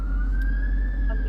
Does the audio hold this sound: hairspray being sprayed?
no